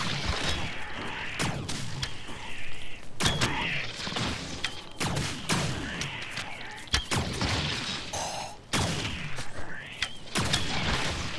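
Gunfire in the video game Stranded: Alien Dawn rings out as repeated sharp shots and booming bursts throughout. The firing comes in irregular volleys over a busy, noisy mix.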